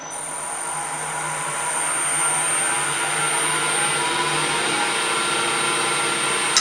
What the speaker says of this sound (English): now I'm going to start hollowing out the inside of the bowl here